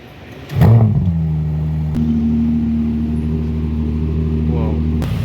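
Ferrari 296 GTS pulling away on a London street, a sharp engine blip followed by a steady, loud, droning engine note that holds as the car drives off.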